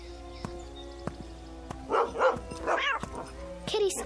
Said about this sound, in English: Leave my kitty alone, you bad dog.